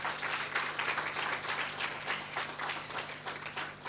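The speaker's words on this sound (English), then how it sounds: "May I please request that we give her one more round of applause." A round of applause for a minister at a youth work gathering, many hands clapping steadily and fairly softly, a continuous wash of claps that runs for several seconds without voices.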